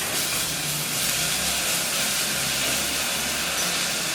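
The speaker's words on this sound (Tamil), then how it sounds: "இப்போ நம்ம இந்த சாம்பார் வெங்காயத்தை போட்டுக்கலாம்." Small sambar onions frying in a pan for mutton gravy, a dense, continuous hiss-like sizzle holding at an even level throughout, close and fairly loud with no talking.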